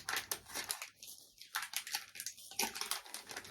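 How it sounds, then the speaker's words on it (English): Plastic packaging being torn open and unwrapped, loud crinkly crushing and ripping rustles filling the whole stretch with brief pauses, close up and with no talking. "Sorry about the rustling."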